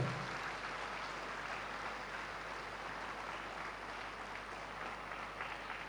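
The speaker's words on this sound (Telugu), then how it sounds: "Claps to Patriji." Faint, distant applause from a meditation gathering audience for Patriji, a steady wash of clapping that holds evenly throughout without voices.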